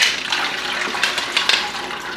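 Tap water runs and splashes steadily over split peas being rinsed for soup, close and fairly loud, with a few brief spattering surges.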